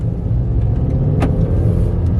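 A car driving on a road gives a steady low rumble of engine and road noise from inside the cabin, with one brief click partway through.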